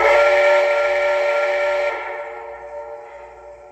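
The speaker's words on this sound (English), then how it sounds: "Here's the whistle." A loud, steady steam whistle from a Proto 3 RailKing Blue Comet model train blows for a couple of seconds, then fades into a softer hiss that slowly dies away.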